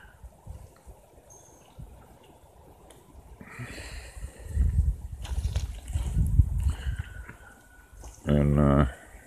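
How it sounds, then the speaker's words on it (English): A sprinkler water line spraying outdoors in gusty wind, a soft rushing hiss that swells and fades in the middle, with a voice talking and a short tonal burst near the end. "I can find a way that you can see the water spraying around"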